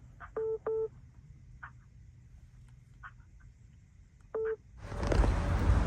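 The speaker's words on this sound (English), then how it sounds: "phone ringing" A phone rings faintly in short electronic bursts, two quick ones then a single later, over quiet background before a rush of noise.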